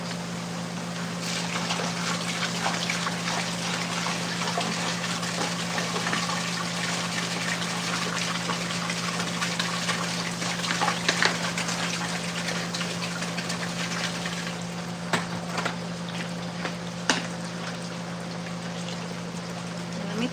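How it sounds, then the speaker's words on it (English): Water runs steadily inside a grow tent as a constant broadband wash, with a low motor-like hum underneath and a few faint knocks and clicks. "the water's coming out pretty clear, but I'll add a little bit more and just let"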